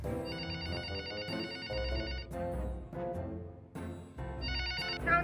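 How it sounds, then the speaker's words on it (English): A telephone bell rings in bright, repeated trilling bursts with short gaps between them, close and clear over a low background. "Yo, Ma, is that the phone?"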